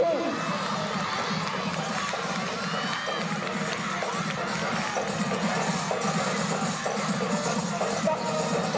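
A large crowd at a school sports day cheers and shouts steadily throughout, a dense, continuous roar of voices with children's shouts mixed in, without clear pauses.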